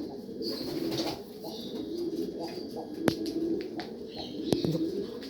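Jacobin pigeons in a cage cooing in low, repeated throaty murmurs, several birds overlapping at close range, with a couple of sharp clicks or taps and faint chirps behind.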